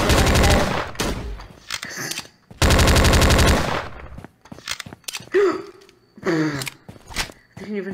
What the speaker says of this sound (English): I just see your bullets go flying.